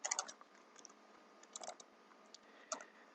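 Code being typed on a computer keyboard, quiet close key clicks in short bursts with pauses between, faint and alone.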